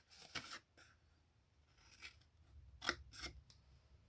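Scissors snipping through stiff card in a few short, crisp cuts, close by and quiet, with brief pauses between the strokes.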